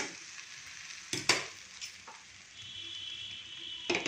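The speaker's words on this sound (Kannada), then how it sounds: "ಇವಾಗ ಎಲ್ಲ ಮಿಕ್ಸ್ ಮಾಡಿ ಒಂದು ಎರಡು ನಿಮಿಷ ಬಾಡಿಸ್ಬಿಡ್ತೀನಿ" A vegetable palya sizzles in a pan while being mixed and sautéed, soft steady frying with a few sharp spatula scrapes and clinks, fairly quiet.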